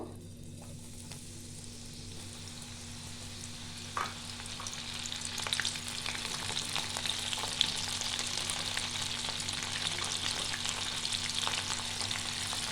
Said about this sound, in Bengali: এবার আমরা ভেজে নেব।